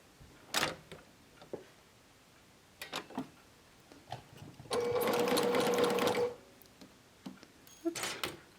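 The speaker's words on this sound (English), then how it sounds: "I'm going to be sewing this with a 1/4 inch seam allowance." A domestic sewing machine stitches a fabric face mask with a 1/4 inch seam allowance, one loud close burst of a couple of seconds between scattered handling clicks and taps of fabric and tools.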